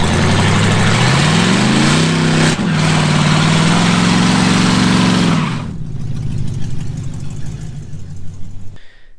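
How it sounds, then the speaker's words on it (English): A Mercedes M113 single overhead cam 5-litre V8, swapped into a Ford Capri, idles then revs up in a loud rising roar, holds steady, and drops off sharply to a rough idle before cutting out. "M113 engine. Now this is a single overhead cam V8, 5 litre displacement."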